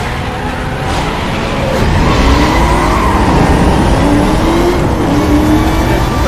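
A 1969 Dodge Charger R/T in a retro racing video game skids with long, loud tire squeals over a steady engine drone, rising slightly as it slides.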